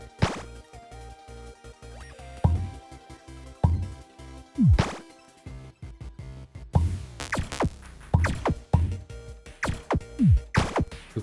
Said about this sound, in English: So I made and found some sound effects for invalid combination, projectile firing, projectile impact, tower placement, tower combination